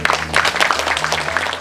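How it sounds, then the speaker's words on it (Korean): Audience at a Korean ceremony applauds to welcome lawmaker Lee Cheol-gyu as he comes up to give a congratulatory speech, a thick, steady wash of clapping at moderate loudness with a low hum underneath. "큰 박수로 맞아주시기 바랍니다"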